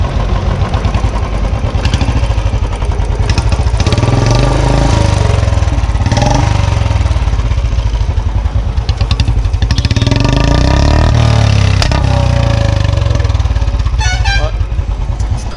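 Royal Enfield Standard 350 motorcycle fitted with a long Punjab exhaust, its loud, steady thumping engine note running continuously up close, with occasional revs and voices talking over it.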